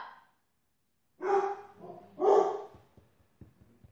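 A dog barks twice in quick succession, loud and close, followed by a few faint clicks and taps.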